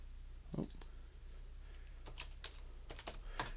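Dimension values typed into SolidWorks on a computer keyboard: a few separate quiet keystrokes in small bursts over a low hum, close by and without speech.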